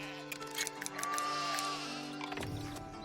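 Sheep at a farm in the city-building game Foundation bleat several times in a row, clear wavering calls over soft ambient game sound.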